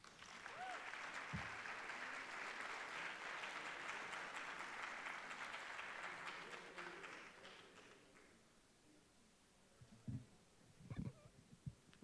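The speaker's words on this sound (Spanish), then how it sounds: "démosles la bienvenida con un fuerte aplauso a Mireya Vargas." Sustained applause from a conference audience fills the hall to welcome a speaker, steady for several seconds before thinning out into a few scattered claps and small noises.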